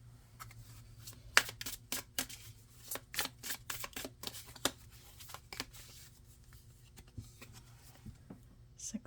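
Angel number cards are shuffled and handled up close, with a string of crisp papery flicks and taps in an irregular rhythm against a quiet room, with a soft voice at times.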